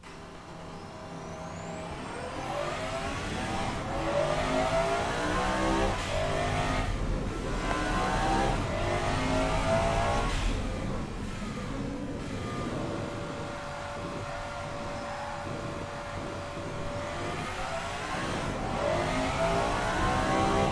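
A 1990s supercar engine lapping Laguna Seca in the driving game Automation, loud and continuous, revving up through the gears with repeated rising sweeps and brief dips at each shift, with no talking.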